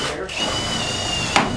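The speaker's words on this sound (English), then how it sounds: "It's a real cheap drill bit, but it's all I got to do is get it through far enough to get to the other side." A cheap, wobbly drill bit bores a hole through a sawmill wood beam, giving a steady whining drone across the clip with a brief sharper burst near the end.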